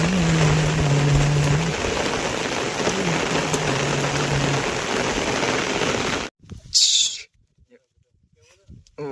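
Heavy rain pours down on a field where sheep are kept, a dense, loud, steady hiss with a voice murmuring underneath, then cutting abruptly to near silence with a few faint sounds at the end.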